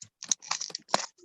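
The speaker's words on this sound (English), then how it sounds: "Let me type that in." Quick keystrokes on a computer keyboard come in short irregular clusters of soft clicks, close and fairly quiet, with no talking, during an online webinar session.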